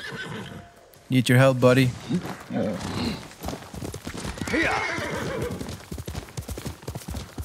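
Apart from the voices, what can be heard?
horse neighing and hooves in video game Ghost of Tsushima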